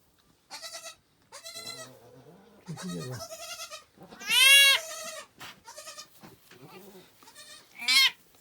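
Several goat bleats during a goat birth, close and loud, with wavering nasal calls repeating across the clip, some short and some drawn out, separated by brief pauses.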